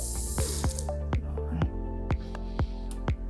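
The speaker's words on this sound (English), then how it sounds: "You want to turn all the water on and make sure that it's functioning correctly." Water from a tap in a house during a final walkthrough before purchase. It makes a string of close, distinct plopping drips at an uneven rhythm over a faint background hum, with no talking.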